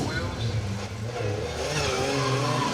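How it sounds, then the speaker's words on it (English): A Mazda MX-5 rally car slides sideways on a hill at Cantwell Park during a stage rally, its engine and tyres roaring loud and close beneath steady commentator talk. "Nicely sideways there from the Mazda MX-5 of Peter Taylor and Charlotte Wainwright"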